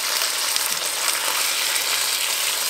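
Fish fries skin-side down in a hot pan, giving a steady, close, bright sizzle and crackle that continues evenly throughout with no talking.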